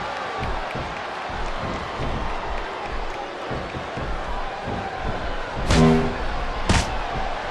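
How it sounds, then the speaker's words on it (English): A large capacity arena crowd in the wrestling video game Smackdown vs RAW 2007 roars continuously in the background, a dense wash of cheering, with a couple of sharp bangs near the end. "It sounds like this capacity crowd has something on their minds, Taz."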